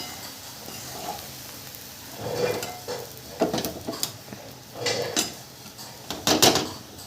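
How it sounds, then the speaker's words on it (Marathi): Bread crumbs frying in a pan with onion, close spatula stirring in irregular bursts of scraping and rustling over a low sizzle. "आणि ह्या पावचा चुरा टाकून आपण फ्राय करूया"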